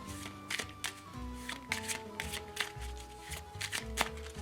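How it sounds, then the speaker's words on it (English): A deck of playing cards for a board game being shuffled by hand, with crisp riffles and short bursts of card flicks in an uneven rhythm, close and fairly quiet with no talking. "So you're going to shuffle these up"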